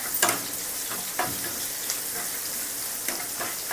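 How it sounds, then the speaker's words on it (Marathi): Garlic, onion and green chili sizzle in hot oil with mustard seeds as a spoon stirs them for a Maharashtrian thali, a steady close hiss broken by a few scraping strokes, with no voices. "आणि थोडासा लसूण आणि कांदा आणि हिरवी मिरची आपण हे हलवून घेऊया"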